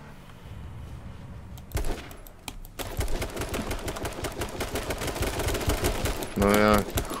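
Rapid bursts of video game gunfire crackle over continuous in-game background noise, with a short loud electronic tone near the end.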